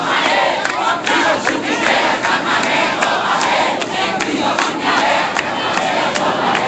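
A large crowd of protesters gathers outside a police department in Ferguson, making a steady, loud wash of many voices and shouts that continues without a break.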